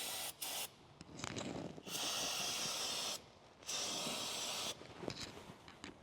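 Brake cleaner sprayed from an aerosol can onto a Ford 11.6 Sterling axle cover, in three sustained loud hissing bursts separated by short pauses with small clattering noises in between.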